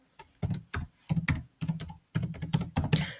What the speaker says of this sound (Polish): Wpisujemy nazwisko, które nas interesuje.